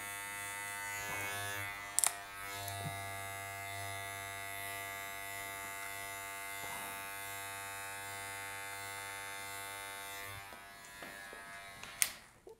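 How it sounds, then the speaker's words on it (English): Hair clippers buzz steadily through a fade haircut, a continuous electric hum that holds for about ten seconds, bracketed by a few brief clicks and handling knocks, with no talking. "You can use the side of the clipper"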